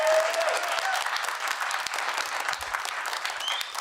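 Audience applause for a singer and her band at a live televised B.C. food bank fundraising special, steady dense clapping throughout, fairly close and full with no talking.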